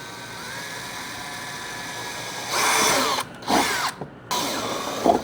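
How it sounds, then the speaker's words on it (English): A power drill with a 1/4-inch bit bores pilot holes for 10mm bolts while mounting a relay on a Honda Pioneer, with short loud whirring bursts broken by brief stops, close by after a quiet lead-in. "we're going to mark where we're going to drill our pilot holes to put these bolts"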